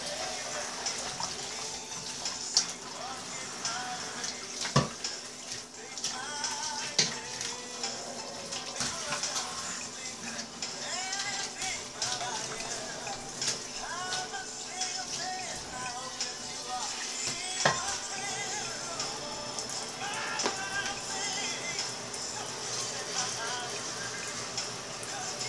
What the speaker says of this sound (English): Let me clean my pan.